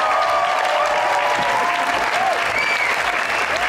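A studio audience at an Eid special show applauds steadily to welcome a guest, dense clapping filling the room at an even level with faint tonal sounds and a hint of voices beneath.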